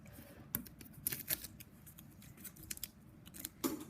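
Tape peeled off hemp macrame strings, heard as a series of quiet, close sticky crackles and short ripping ticks in an uneven rhythm, with no talking.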